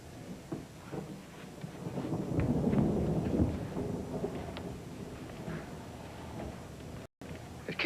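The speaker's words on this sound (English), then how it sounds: "I've never been in a storm like this before." A thunderstorm with rain and thunder gives a continuous low rumble that swells in the middle and then eases, with a steady rainy hiss beneath and a brief cut near the end.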